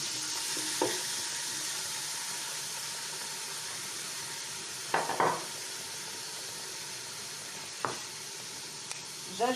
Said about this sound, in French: نقلي مليح هذيك السيبيا تاع السيبيونات نقليها خليها تقلى